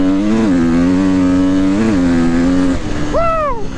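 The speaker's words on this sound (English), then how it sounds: "that over-rev, you gotta twist that throttle all the way" A KTM 350XCF dirt bike is revved hard at full throttle, its engine note climbing and surging twice before dropping away, followed by a brief rising whine near the end, close and loud.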